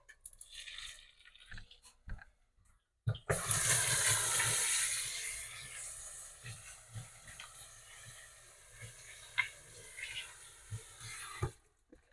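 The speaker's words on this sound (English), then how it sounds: "and then I'll have to go wash my hands" Water runs steadily from a kitchen tap as hands are washed, a sustained hissing gush lasting several seconds before it is shut off, followed by quieter handling sounds.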